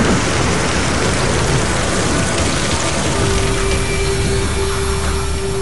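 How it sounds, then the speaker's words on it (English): Heavy storm rain pours down steadily in the wilderness, a dense, continuous hiss of drops hitting leaves and ground, loud and unbroken throughout with no voices. "After 2 hours of heavy rain, the storm passes and there's a break in the clouds."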